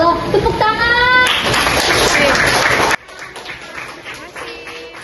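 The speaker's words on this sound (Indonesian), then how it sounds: "Tepuk tangan." Primary school children clapping together at a school activity, a loud burst of applause that suddenly stops, followed by faint crowd murmur and voices.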